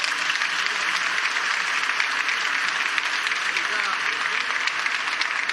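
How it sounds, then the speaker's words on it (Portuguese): A church congregation applauds with steady, dense clapping that carries evenly throughout, moderately loud and spread across a large room, with a faint murmur of voices underneath. "Vamos dar uma linda salva de palmas."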